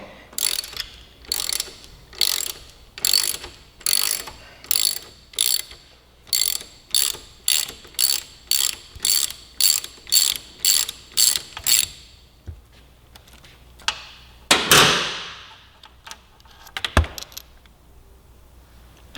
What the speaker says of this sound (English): And we'll then remove the main pivot bolt.